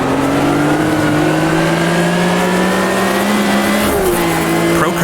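A race car in Automobilista 2 holds a loud, close engine drone, then drops a gear near the end of the lap with a quick pitch shift and rev blip, among a pack of other cars.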